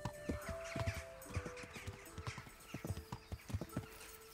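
A horse in Kingdom Come: Deliverance clip-clops along in an uneven rhythm of close hoof strikes, about a dozen distinct thuds over a few seconds, with faint ambient tones behind and no voices.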